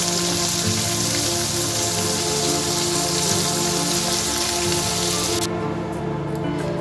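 Paneer cubes frying in a pan give a dense, steady crackling sizzle, loud and close, continuing without pause and with no talk.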